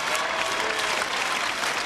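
A studio audience at a 1981 French TV variety show claps loudly and densely, with the applause sustained and unbroken throughout.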